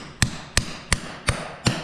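A hole punch is struck with a hammer to pound holes through rubber mud flaps laid on a wood block, five sharp, evenly spaced metallic strikes in quick succession, close and loud.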